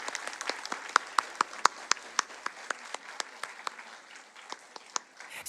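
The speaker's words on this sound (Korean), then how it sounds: "축복의 박수 함께 하겠습니다" A church congregation at an early-morning special revival service applauds its young adults: a soft bed of clapping with sharp, distinct individual claps standing out near the front, tapering off after several seconds.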